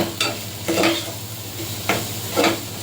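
Rice being fried and stirred in a pot with salt and black pepper, sizzling under four distinct scraping strokes of a spoon at an uneven rhythm, close and fairly loud, no talk.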